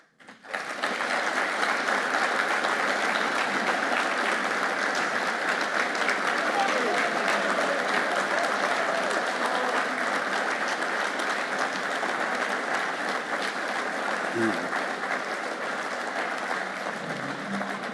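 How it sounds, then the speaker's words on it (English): A long, steady round of applause from a conference audience fills the room, dense clapping holding at an even level for well over fifteen seconds with a crowd murmur underneath. "is to give Michael a very, very long round of applause."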